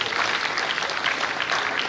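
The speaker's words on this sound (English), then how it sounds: "Can you give him one round of applause?" Audience applause at a Lagos builders conference: a dense, even burst of many hands clapping close by, sustained briefly without pause.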